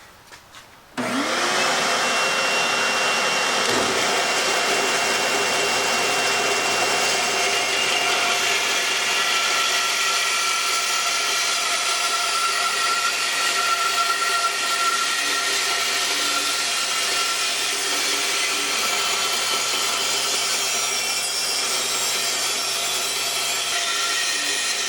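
A band saw cuts steadily through a wooden bowl blank as the piece is rotated around the blade, a loud continuous whining rasp that starts abruptly and holds for over twenty seconds, with no talking.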